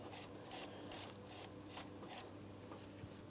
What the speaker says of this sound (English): For this, I'm just using a wire brush.